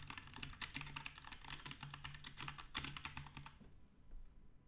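Fast, steady typing clatters on a computer keyboard, faint and close, with no voices, stopping near the end.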